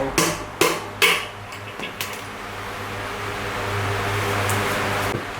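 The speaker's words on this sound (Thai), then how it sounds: "เราก็มาตอกแกนออกกัน ตอกสวนไปเลย" The axle of a BMX freecoaster hub is hammered out with several sharp metallic blows in quick succession, then a steady hum of background noise continues on its own.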